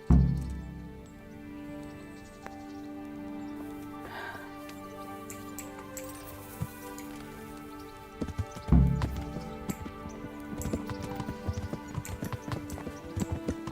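Horse hooves clip-clop in the video game Kingdom Come: Deliverance, a steady close patter of hoofbeats over ambient game music that grows busier toward the end.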